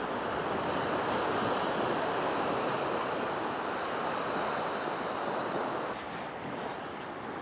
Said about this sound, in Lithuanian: Čia bangos suplakė gražiai kažkaip.